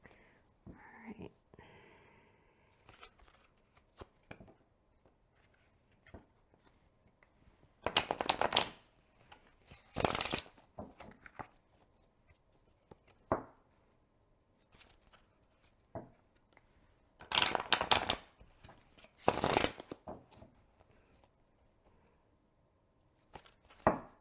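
Tarot cards riffled and shuffled in several loud bursts, with softer rustling and handling of the deck between them, close by and without talk.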